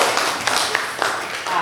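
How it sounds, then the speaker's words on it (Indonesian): Audience clapping in a teacher-training classroom session, a brief, dense patter of hands that sounds close and fairly loud, with some voices mixed in. "tepuk tangan"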